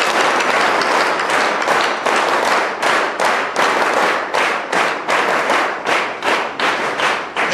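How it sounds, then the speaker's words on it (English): Cadets at a Sainik Schools zone meet applaud their guests, a dense, steady burst of many hands clapping nearby in rhythmic waves that runs throughout, with no talk over it. "Please join me in giving them a huge round of applause."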